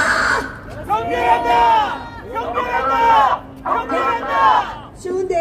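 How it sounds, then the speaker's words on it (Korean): A crowd at a street rally against election fraud at Gangnam Station in Seoul chants slogans in unison, three strong voiced bursts with short gaps between them, loud and close. "용기 내셔서 힘차게 구호 외쳐주셔서 감사드립니다."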